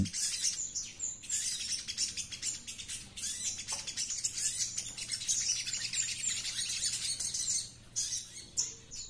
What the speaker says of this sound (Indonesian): burung sogon saya yang satunya cukup memberikan respon yang bagus yaitu perlawanan